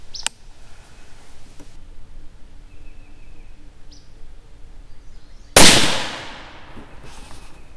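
A single loud, sharp rifle shot from a .280 Ackley firing a 145-grain Barnes LRX bullet cracks out after several quiet seconds, its echo trailing off quickly.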